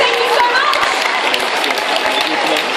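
Audience applause at a cosplay competition, a dense, steady wash of clapping and crowd noise filling the room for a few seconds without a break.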